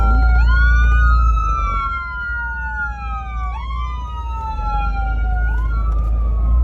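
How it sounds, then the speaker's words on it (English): An ambulance siren wails in repeated rising and falling sweeps, loud and close, over the low rumble of traffic. "There's an ambulance coming, and let's move so that the ambulance can go."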